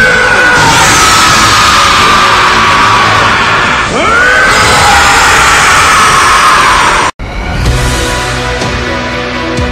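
An anime character screams, long and loud and sustained, in a dramatized Dragon Ball power-up scene, over dense roaring noise, with a brief cut near the end.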